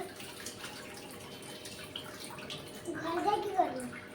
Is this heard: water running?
yes